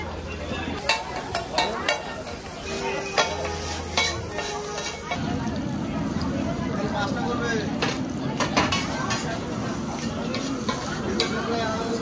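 Food sizzles in hot oil at a fair food stall that serves chowmein and cutlets, a steady crackling fry that swells louder partway through, with busy crowd chatter and voices around it.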